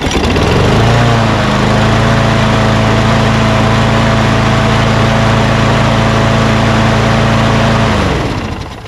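Craftsman push lawn mower engine running loud and close at a high, steady RPM, a constant droning hum that holds evenly before winding down slightly at the end.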